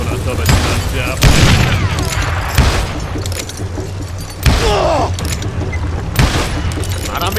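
Gunfire from the video game Call of Juarez: Gunslinger: several loud, booming shots at irregular intervals, mixed with mechanical clatter and dense game sound effects, with voices talking over parts of it.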